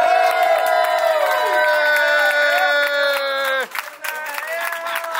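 A small crowd cheers and whoops loudly as a doctor enters a room, many overlapping high voices shouting together, then trailing into scattered calls near the end.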